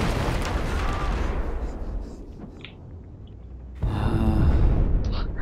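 Tank firing in the video game Battlefield 4, a heavy rumbling blast that decays over a couple of seconds, then a second loud boom with a crackling tail, both close and forceful.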